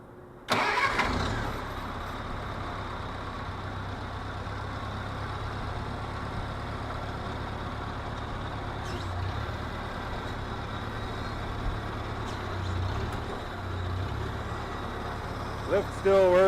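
A 1977 International Cub tractor engine cranks and catches with a burst, then settles into a steady, close idle that runs on with small swells, with a voice talking briefly near the end.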